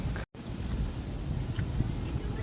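Strong wind at a Miami beach buffets the microphone in a steady, rough rumble, with a brief dropout near the start.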